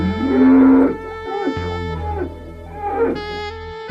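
Cows on a video game farm give a loud, drawn-out moo near the start and a shorter, softer moo around the three-second mark, with no talking over them.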